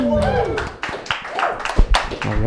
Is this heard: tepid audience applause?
yes